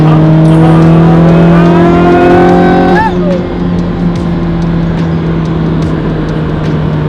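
A high-revving manual Ferrari Challenge Stradale engine screams loudly up to a peak, then drops and settles into a sustained rumbling drone, with a voice briefly heard underneath.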